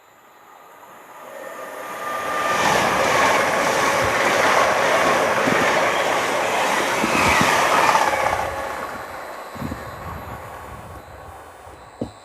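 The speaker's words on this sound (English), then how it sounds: "The train now approaching platform 1 does not stop here." A non-stopping train roars through a station platform at Grantham on the East Coast Main Line, building to a broad, loud rush that holds for several seconds, then fading out with a few wheel thumps and clatters at the end.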